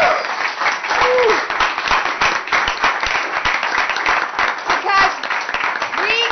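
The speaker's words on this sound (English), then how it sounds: "you had to give them a round of applause too" Applause for campaign volunteers at a post-election party, a sustained, dense round of clapping from a crowd, with voices and cheers mixed in throughout.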